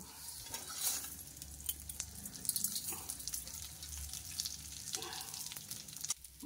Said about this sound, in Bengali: তো এবারে ঘিয়ের ভেতরে দিয়ে দিচ্ছি সব কিছু দিয়ে হালকা করে ভেজে নিতে হবে